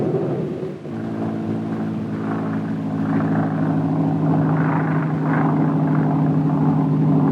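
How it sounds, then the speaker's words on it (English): Chartered airplane flying an aerial radiation survey at daybreak, a steady droning propeller engine with a low harmonic hum that stays loud and continuous throughout. "a chartered airplane was in the air at daybreak with an aerial survey analyzer"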